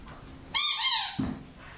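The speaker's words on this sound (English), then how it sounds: "It'll be squeaky again here in a minute." A squeaky dog toy lets out one drawn-out, high, whistling squeal lasting about half a second, followed by a softer rustling thump against quiet room noise.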